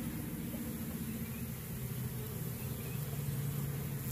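Honey bees flying in over backyard hives, a continuous dense low buzzing hum filling the air at steady volume, with no voices.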